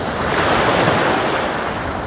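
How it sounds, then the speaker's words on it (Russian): Sea waves wash steadily on a Turkish beach, a loud, continuous broadband rush of surf with some wind buffeting the microphone, no pauses and no voices. "слушать этот шум воды"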